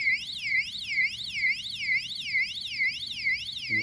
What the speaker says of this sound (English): it puts off a high-pitched siren